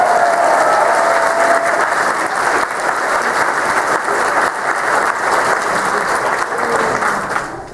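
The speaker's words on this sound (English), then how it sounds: "So let's have a round of applause for that." A convention ceremony audience applauds loudly and steadily for nearly eight seconds, a dense wash of many hands clapping that cuts off abruptly at the end.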